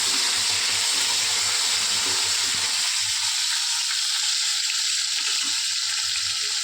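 A cut tomato fries in a pan with a steady, loud sizzle that hisses continuously and close, the crackle settling slightly as it cooks, with no talk.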